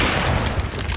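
Heavy booming gunfire from a competitive multiplayer shooter match, dense and continuous across the whole second with a few sharper shots standing out in a loud mix.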